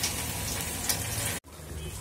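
Small fish fried and braised in spiced oil with onion and tomato, giving a steady, close sizzle that drops out for a moment before resuming more quietly.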